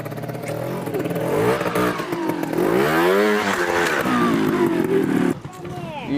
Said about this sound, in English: You got your motorbike down there?